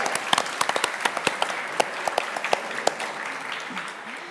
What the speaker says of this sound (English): we can have some claps